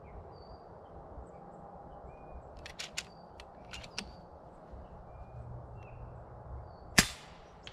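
An FX Impact M3 air rifle fitted with a 700 mm liner fires a few sharp, faint clicks over a steady background hiss, with one louder crack near the end.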